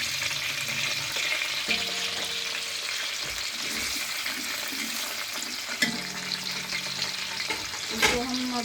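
Onions sizzle steadily while frying to brown for chicken pulao, a close, continuous crackle with occasional scrapes and clanks of a spoon stirring in the pan, with no talking.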